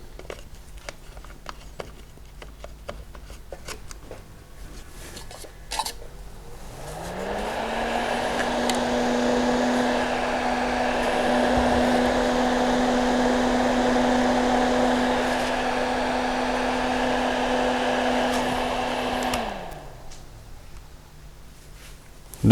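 Household exhaust fan switched on, rising to a steady loud electric hum with an airy whoosh that holds for about twelve seconds, then winds down, with handling clicks before and after.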